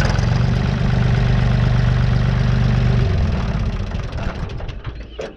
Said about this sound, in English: It's a tight diesel engine